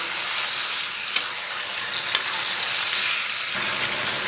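Pork intestines fry in a pan with a little oil, giving a loud, close, continuous sizzle and crackle, with a couple of sharp clinks as they are stirred.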